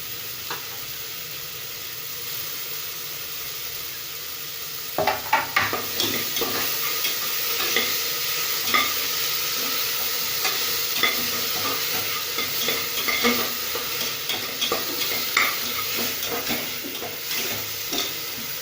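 Washed spinach tumbles into a hot pan with a sudden burst of sizzling, then keeps crackling steadily as it is stirred, with light scrapes and clinks throughout.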